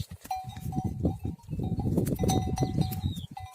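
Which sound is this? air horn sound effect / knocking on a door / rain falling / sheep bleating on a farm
sheep bleating on a farm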